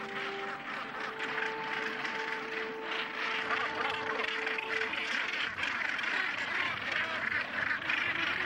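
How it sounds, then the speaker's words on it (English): Massed seabird calling from the world's largest gannet colony on Bonaventure Island, a dense, continuous chorus of harsh cries carrying steadily throughout with no pauses. "Nearby on Bonaventure Island lives the world's largest colony of gannets."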